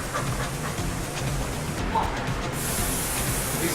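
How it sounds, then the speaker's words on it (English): A spray can or sprayer hisses in a live radio studio, a bright, steady hiss that builds in the latter half and continues to the end, with people talking underneath. "He's spraying. He's spraying."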